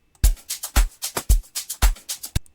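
Layered amapiano electronic dance loops: punchy kicks on a steady beat under bright, airy percussion hits, repeating briskly and loud with no voices.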